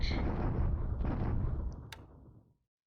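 Naval bombardment in a War in the Pacific wargame set in 1942: a loud, broad rumbling blast that rolls for about two seconds with a second thump midway, then fades out into silence.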